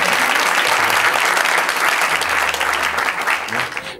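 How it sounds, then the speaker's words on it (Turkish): Dense audience applause rings out in a comedy stage venue, loud and continuous, easing slightly toward the end. "Bir daha bir alkış alayım mı Allah'ın izniyle?"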